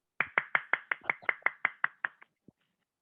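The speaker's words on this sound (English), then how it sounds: "Let's give a round of applause." Sharp, quiet claps in a steady, quick rhythm, about a dozen in a row, slowing and fading at the end, sound like a small round of applause in a hushed room.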